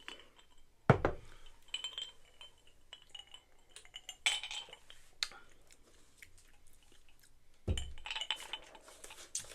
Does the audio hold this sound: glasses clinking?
yes